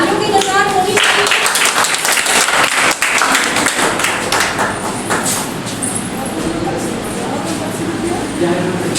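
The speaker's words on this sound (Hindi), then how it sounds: "तालियों की कतार होनी चाहिए।" An audience claps and applauds at a Sanskrit Divas 2025 celebration at a women's university in Purnia, with dense, sustained clapping mixed with voices talking over it.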